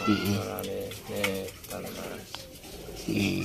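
A zebra dove of the udan mas variety coos in soft, low, rounded phrases, fairly close, repeating several times over steady background noise.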